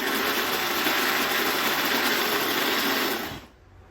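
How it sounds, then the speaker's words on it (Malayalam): A mixer grinder whirs steadily at high speed, blending onions with soaked nigella seeds and fenugreek into a paste, then cuts off abruptly near the end. "ഇനി ഇതൊന്ന് അരച്ചെടുക്കാം."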